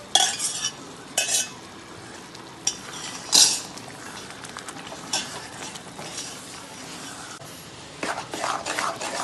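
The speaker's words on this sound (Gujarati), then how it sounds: "હવે આને બધું ફરતું ફરતું બધે ઘી છૂટું પડવા માંડે ત્યાં સુધી એક રસ કરવાનો" A spoon scrapes and stirs one-thread sugar syrup into a ghee and dried coconut sweet in a pan, giving a continuous gritty shuffle broken by several louder scraping strokes and light metallic clinks.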